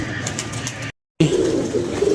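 Pigeons coo in low, throaty bursts at close range, broken by a brief dropout of silence, and the cooing grows fuller afterward.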